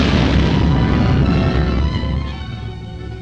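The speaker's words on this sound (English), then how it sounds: "It was a concussion from the explosion." A loud, booming explosion from a black-and-white 1940s adventure film serial, with a dense broadband roar that rumbles on and slowly fades over about three seconds, with no voices.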